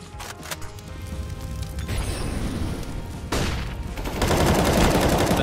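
Gunfire in a BLAST esports match of a shooter game, dense rapid bursts of shots and clatter running continuously, loud and close, growing heavier toward the end with no voices.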